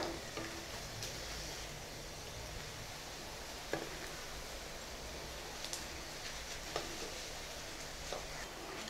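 Urad dal vada frying in hot oil, a soft steady sizzle and bubbling with occasional small clicks and taps, fairly quiet and close.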